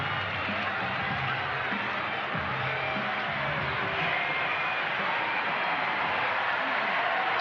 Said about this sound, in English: Crowd's starting to get a little excited